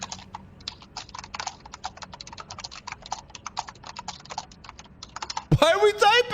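Fast clicky typing on a computer keyboard, a steady patter of key presses up close, with a voice breaking in at the end.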